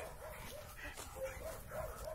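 Two Labrador retriever brothers bark while playing, giving several short yips and barks in an uneven run, fairly faint against background noise.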